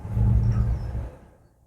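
A car engine revs up as the driver eases the accelerator during a driving lesson in traffic, a loud low rumble that holds steady for about a second and then fades away.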